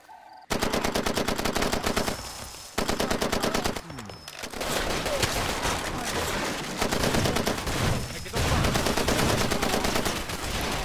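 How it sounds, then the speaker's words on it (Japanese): In Far Cry 2, an exploding ammo crate sets off rapid, dense bursts of gunfire that crackle loudly for most of the stretch, with brief pauses between volleys. "弾薬箱爆発しましたね。 こんな感じで爆発すると弾薬がめちゃ飛び散ってね"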